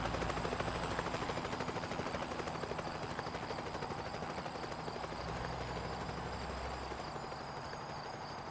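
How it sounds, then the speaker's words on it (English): Helicopter in American Truck Simulator passing overhead, a steady throbbing rotor drone with engine whine that holds at an even level throughout, no voices. "There's a helicopter out? Oh, they're looking for somebody."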